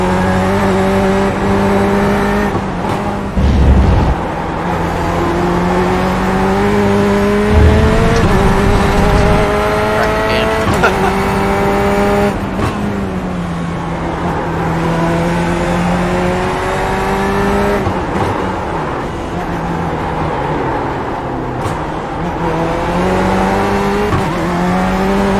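A Corvette GTE race car in the iRacing simulator, its loud engine revving up and down through gear changes for a long stretch, with occasional tire squeal through corners.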